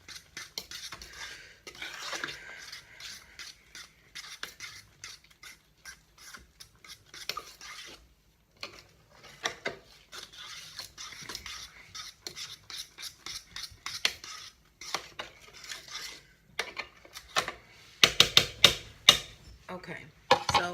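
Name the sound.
mixing buttermilk cornbread batter in a bowl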